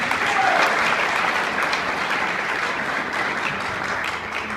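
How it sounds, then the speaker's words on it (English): An audience gives a round of applause, a thick, steady rush of many hands clapping that stays loud and even, tapering slightly toward the end. "Another round of applause, I think, for him."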